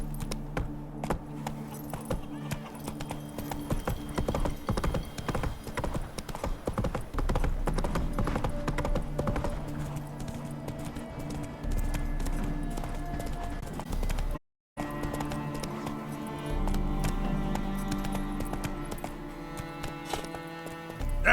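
Roach, a horse in The Witcher 3, gallops with steady, loud hoofbeats and jangling tack, broken by one brief silent gap before the hooves resume.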